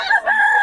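A rooster crows among show chickens at Bocaue. It is a single loud, close cock-a-doodle-doo with a sustained tonal final note and no talking over it.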